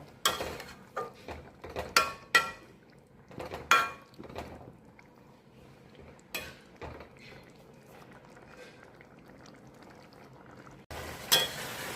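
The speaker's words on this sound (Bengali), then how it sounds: "পনিরটা দিয়ে দিলাম, একটু সামান্য মিষ্টি দিয়েছি, একটু ফুটবে, তারপর আমি নামিয়ে নেব।" Paneer curry with poppy seed paste, cashew paste and a little sugar simmering in a pan, soft bubbling broken by intermittent clinks and scrapes of a utensil, close and quiet.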